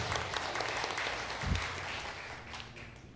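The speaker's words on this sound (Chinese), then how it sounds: "大家鼓掌欢迎伟明哥的" Church congregation clapping to welcome a returning member during a Taiwanese-language Sunday service, a steady wash of applause across the room.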